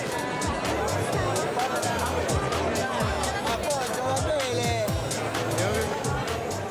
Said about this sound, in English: the crowd increases